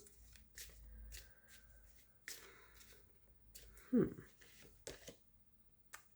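Fairy oracle cards are shuffled by hand in several soft riffling bursts with a sharper slap near the middle, faint and close in a quiet room.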